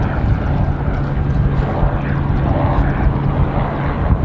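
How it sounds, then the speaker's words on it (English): A steady, loud roar of a helicopter flying close by, a continuous engine and rotor drone that holds level throughout with no talking. "I will leave you today with a helicopter tour."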